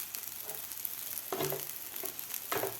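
Kurdai and onion bhaji stirred in a frying pan, a soft, steady sizzle with a few gentle scraping strokes of the spoon, fairly faint and close.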